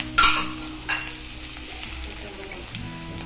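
Chopped ginger, garlic and green chili sizzle in three tablespoons of hot sesame oil for pineapple pickle, a close, steady frying hiss with a few scraping stirs of a spoon against the pan.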